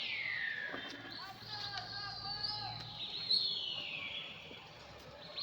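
Pigeons passing overhead at a pigeon-flying contest in Birecik, Şanlıurfa, make long, gliding high whistles that sweep up and down over several seconds, moderately loud above faint outdoor background noise.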